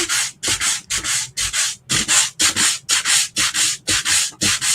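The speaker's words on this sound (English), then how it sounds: "So I've got 120 grit sandpaper, so I'm just going to try to rough up around that stripe to kind of blend it in a little." 120 grit sandpaper rough-sands a wooden sign in quick back-and-forth strokes, about a dozen close, loud scratchy rasps in an even rhythm with brief gaps between them.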